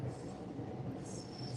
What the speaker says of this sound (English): Can you hear the trains?